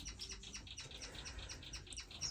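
Pet finches in a hobby aviary chirp in quick, repeated high tweets, a steady run of bright calls over low background hum.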